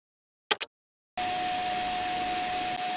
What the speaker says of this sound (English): This is the kind of audio you can expect if you've got a vacuum cleaner in the background.